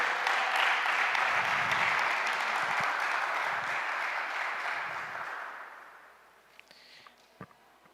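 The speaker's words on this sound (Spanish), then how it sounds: "Denle un aplauso al Señor." Sustained applause from a church congregation, loud and steady for several seconds, then tapering off into a few scattered claps and quiet.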